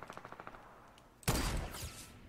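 Fortnite gunfire: a quick run of faint, evenly spaced shots, then a sudden loud burst of heavy firing that stays dense and sustained for about a second.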